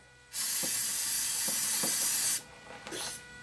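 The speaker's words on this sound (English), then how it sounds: "Spray it down, both sides, and be done with it" An aerosol cleaner sprays onto a car's mass airflow sensor in a long, steady hiss lasting about two seconds, followed by a shorter burst, up close and with no talking.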